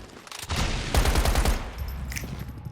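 Gunfire in the video game Once Human as spider eggs are shot: a quick burst of rapid shots, close and loud, that fades into game ambience.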